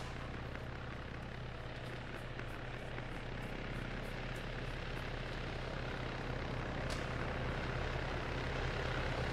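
Helicopters approach in the ArmA military video game, a steady rotor thump and turbine drone with rhythmic blade chop, continuous and moderately loud without talk.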